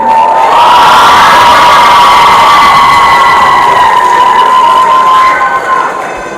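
A hall audience at a student debut show for a primary education faculty erupts in loud cheering and applause, shouts and whoops riding over steady clapping before easing slightly at the end.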